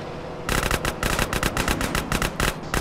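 Rapid automatic gunfire from the video game GTA San Andreas rattles in loud, dense bursts with short gaps between them, close and dominant for most of the clip.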